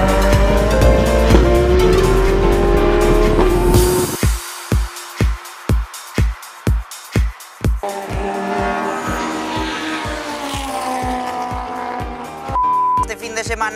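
Ferrari 488 GT3 race car running at the Circuito de Navarra during a 24H Series endurance race, a loud sustained engine roar that breaks into a rapid series of sharp bursts, then continues beneath speech and other track noise.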